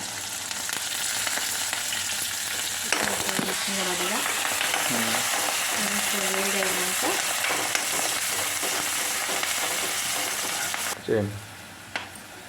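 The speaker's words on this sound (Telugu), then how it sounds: "తాలింపు గింజలు వేడి కాగానే ఉల్లిగడ్డలు కూడా వేసి కొంచెం ఫ్రై కాగానే" Onions frying in hot oil with tempering seeds and a dried chilli for a ponnaganti leaf curry, a steady close sizzle throughout with a voice speaking over the middle and the frying cutting out near the end.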